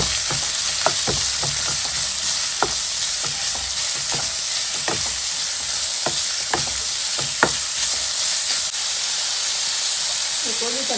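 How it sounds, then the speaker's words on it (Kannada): Onions frying in oil for a fennel seed chicken dish give a loud, steady hissing sizzle throughout, broken by repeated spoon scrapes and taps against the pan, close and continuous with no speech. "ನೀರುಳ್ಳಿ ಒಂಚೂರು ಫ್ರೈ ಆಗಿದೆ"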